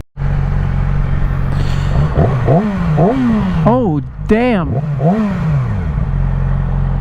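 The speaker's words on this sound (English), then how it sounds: "So there she is, she's warming up." A Yamaha R6 sport motorcycle with new spark plugs and a fresh air filter idles steadily up close, then snaps through a series of quick, sharp revs that rise and fall, with a brief exclamation from a person partway through.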